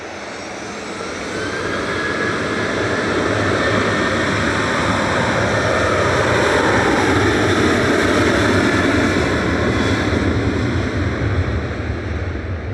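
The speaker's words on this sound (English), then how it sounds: "This is flight 2606 heading to Palma de Mallorca. 737-800, pretty much naked." A TUI Airways Boeing 737-800, flight to Palma de Mallorca at Manchester Airport, roars loudly and close with sustained jet-engine noise and a high whine, building over the first seconds and then holding steady.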